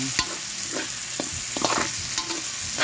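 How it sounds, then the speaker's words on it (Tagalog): Garlic, onion and chili sauté in a hot pan with a steady loud sizzle of oil. Several scrapes and stirring knocks of a utensil break through the sizzle, and no one talks. "ginisa ko muna yung bawang, sumunod yung sibuyas, tapos itong sili"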